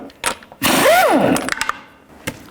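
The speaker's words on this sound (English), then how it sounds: "take the lug nuts off." A power tool with a socket whirs loudly in a short burst, pitch rising then falling, as it spins the lug nuts off the front wheel of a 1999-2007 Chevy Silverado 2500HD, with a few faint clicks around it.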